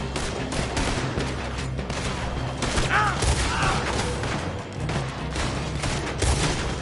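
Rapid gunfire crackles through a Red Dead Redemption II shootout, a sustained fusillade of overlapping shots echoing across the scene while voices shout over the fighting.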